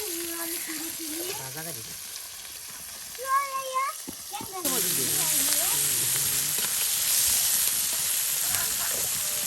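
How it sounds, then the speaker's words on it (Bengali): Onion, chili, garlic and salt fry together in oil. Voices talk over a quiet background at first, then a loud, close, continuous sizzle takes over for the rest. "পেঁয়াজ মরিচ রসুন লবণ সব কিছু দেওয়া একসাথে তেলে ভাজা ভাজা করে নেওয়া হচ্ছে"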